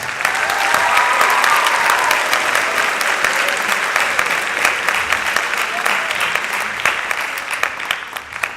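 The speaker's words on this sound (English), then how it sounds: "So give him a round of applause" Loud, sustained applause fills a junior high spring band concert as the audience claps for tuba player Jerry Gonzalez receiving the varsity band award, a dense crackle of many hands tapering slightly toward the end.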